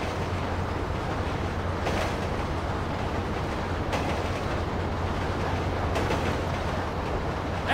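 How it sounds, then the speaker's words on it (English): A train rushes past in the video game Grand Theft Auto V, making a loud, steady rumbling roar with faint clickety-clack from the rails that holds for the whole stretch, with no talking. "Train ain't stopping here, boys!"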